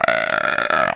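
One long, loud, close burp with a rough, tonal drone lasts about a second after eating a chocolate hen.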